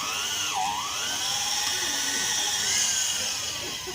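A drill bores a deep hole through a hard steel bolt with water used as coolant, giving a loud, steady high-pitched whine that dips briefly in pitch and then holds constant throughout.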